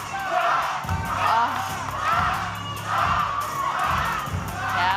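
Wrestling arena crowd at Davis Arena roaring and cheering for Cash Flow's return, a loud, dense wall of shouts and whoops surging in repeated waves.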